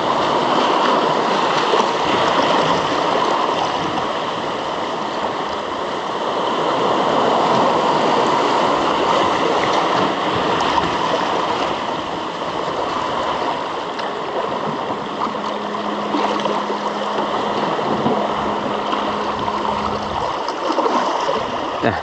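Ocean waves breaking on a beach during surf casting for fish, a steady broadband wash of surf that stays loud and continuous throughout, with a faint low tonal hum entering near the end.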